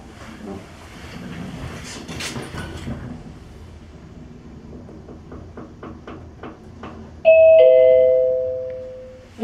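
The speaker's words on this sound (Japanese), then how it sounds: "水戸駅側のドアが開きます。" Elevator on the pedestrian deck at the south exit of JR Mito Station: low rumbling and a series of soft clicks as the doors move, then a loud, bright two-tone chime rings out and fades near the end.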